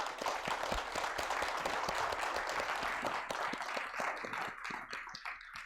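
Audience applause thanking a guest lecturer at a university forum in a lecture hall, continuous clapping from many people at moderate distance, fairly quiet and gradually thinning toward the end.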